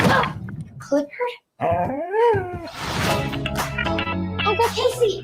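A dog whimpers and yips in rising, whiny tones, followed by a few barks, with people talking over and around the sounds.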